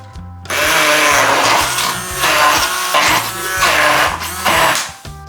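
A blender grinds Thai green curry paste with chili in loud, close bursts: the motor whirs hard, dips and strains as the thick paste catches, then surges again, with no talking.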